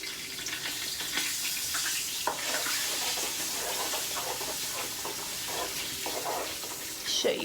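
Flour gets stirred into a pan to make a roux, with a soft, continuous scraping and a faint sizzle under light kitchen clatter, fairly quiet and close, with a couple of sharper clinks.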